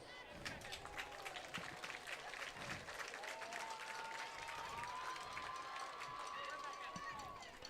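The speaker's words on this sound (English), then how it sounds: "Please give them a big round of applause." Crowd at Bearcat Stadium during a Mena versus Dover high school football game, steady broad applause and crowd noise filling the whole stretch, with whistle-like tones and voices mixed in.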